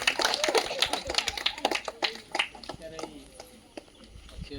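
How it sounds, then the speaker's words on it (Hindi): A crowd claps hands at an outdoor Independence Day flag-hoisting event, scattered brisk claps that thin out toward the end, with people talking and calling out over them. "ताली ताली मार रे।"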